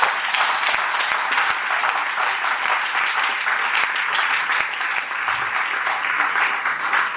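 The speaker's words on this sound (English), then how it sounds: "I want us to give a big clap to Mrs." Sustained applause from the audience at a university public lecture on journalism and social change, a dense, steady clapping that fills the room evenly from start to finish without pause.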